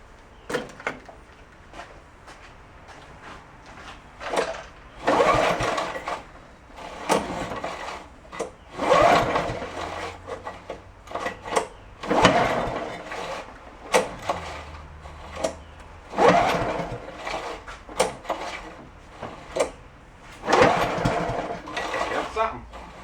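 A small engine being pull-started after fuel is dumped in gives repeated rope-pull bursts with ratcheting rasps, roughly a dozen tugs in an uneven rhythm, close and moderately loud, with no sustained running.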